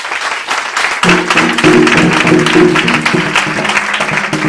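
A church congregation erupts in loud sustained cheering and clapping in acclaim of Jesus, a dense roar of many voices and hands that swells after a brief quieter moment and holds steady.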